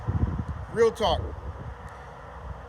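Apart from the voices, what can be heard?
wind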